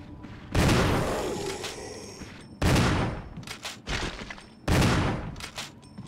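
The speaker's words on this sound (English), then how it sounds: "I'm shooting again." Gunshots in the Resident Evil REmake game. Four loud, booming blasts are spaced a second or two apart, each followed by a short decaying tail and faint clatter.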